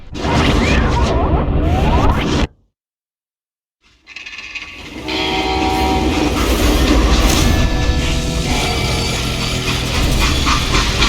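A freight train in the video game Call of Juarez: Gunslinger rumbles loudly along the tracks with rattling and clacking, cuts to near silence briefly, then the heavy rolling noise resumes.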